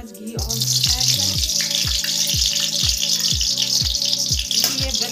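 Ghee sizzles in a hot pan while sabudana khichdi is being made, a steady bright frying hiss running throughout beneath louder background music.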